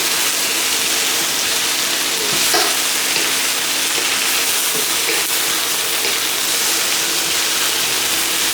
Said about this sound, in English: give it a good stir fry into those spicy ingredients